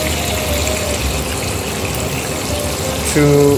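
Water gushes steadily into a cooking pot for spaghetti carbonara, a continuous loud pour with a brief extra surge at the end.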